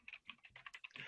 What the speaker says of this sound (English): what I'm doing is typing something else in too